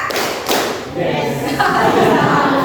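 A classroom of students claps in rhythm, sharp claps and thumps landing in spaced, counted bursts, close and fairly loud.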